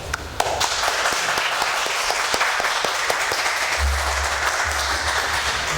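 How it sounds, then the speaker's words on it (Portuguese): A crowd applauds steadily throughout after a lecture, a dense wash of many hands clapping at a fairly even level, with a low rumble entering near the end. "Então eu queria uma salva de palmas"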